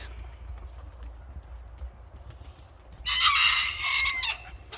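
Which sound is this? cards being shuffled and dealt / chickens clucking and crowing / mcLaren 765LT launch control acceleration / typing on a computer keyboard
chickens clucking and crowing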